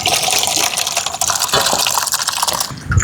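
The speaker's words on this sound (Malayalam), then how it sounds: "നമുക്കിതിൻ്റെ വെള്ളം ഒന്ന് ഊറ്റിയെടുക്കണം." Water from boiled cassava (tapioca) being drained off, a loud continuous pouring gush and splash that eases and tails off near the end, with no voices.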